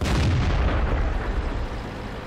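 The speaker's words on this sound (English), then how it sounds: "Artillery lands a shell near me but misses" An artillery shell from World of Tanks lands close by a Panther tank: a single heavy, loud blast that trails off into a rumbling decay, with no talk.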